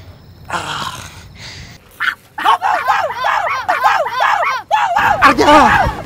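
Dogs bark in a rapid, repeated series at close range, loud and sustained over several seconds, with brief voices and some noise before the barking begins.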